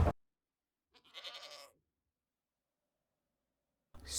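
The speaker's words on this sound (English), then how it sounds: "For some reason there was this goat, and it was feeding Steve notch apples." A video game goat gives a single short, nasal bleat, clear and alone in near silence, with brief louder noises at the very start and end.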